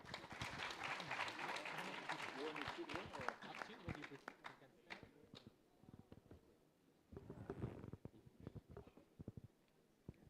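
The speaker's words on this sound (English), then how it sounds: "Please give him a round of applause." A conference audience at a youth forum gives a round of applause, fairly faint and fading after a few seconds, with scattered claps and a voice speaking over the tail end.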